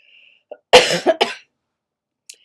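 A close, loud cough of two or three harsh bursts, preceded by a faint throat noise and followed by silence.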